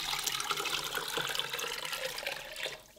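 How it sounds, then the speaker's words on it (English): Hot water at 130 degrees pours steadily into an apple and corn mash, a continuous splashing, gurgling rush that stays close and fairly loud throughout, with no talk over it. "Adding 130 degree water"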